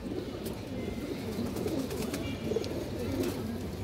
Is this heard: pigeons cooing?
yes